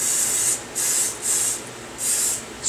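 Three or four short hissing spritzes from a spray bottle onto the plunger of a sausage stuffer, evenly spaced, close and clear with no voices.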